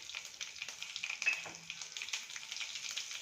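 Hot oil tempering with mustard seeds, cumin, green chillies and curry leaves sizzles steadily as a spoon of asafoetida goes in for Gujarati dal dhokli, a close, fairly quiet frying hiss with small crackles throughout.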